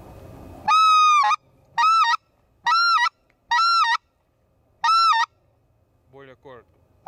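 A goose call imitating the white-fronted goose gives five stretched double honks, loud and close, in an evenly spaced series followed by a brief softer sound.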